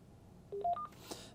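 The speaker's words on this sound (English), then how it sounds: "Long beep confirms that it has been deleted." Three short electronic beep tones from an AT&T DECT DL72219 cordless phone base rise in pitch one after another, followed by a brief rustle of noise.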